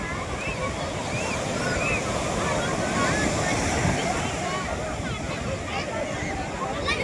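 Sea waves roll onto a beach in a continuous roaring wash buffeted by wind noise, with faint chatter and bird-like chirps mixed in the background.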